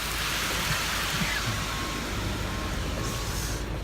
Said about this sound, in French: Là, il pleut à saut.